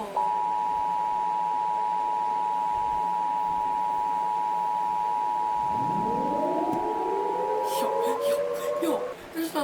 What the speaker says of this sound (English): This is the National Emergency Alert System.